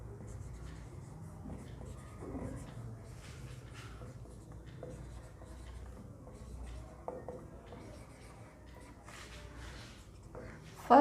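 Marker or chalk scratching across a board during an agriculture science lesson, quiet scraping strokes in short bursts with pauses between them, close and soft, ending with a sharper knock.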